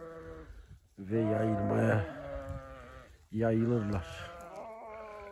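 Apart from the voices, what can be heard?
sheep and lambs bleating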